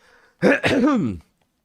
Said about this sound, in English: I'm gonna do my hourly cough